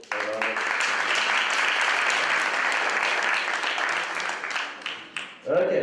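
Sustained crowd applause at a Green Campus Initiative college event, a dense continuous clapping that holds steady throughout, then fades near the end as a voice begins speaking.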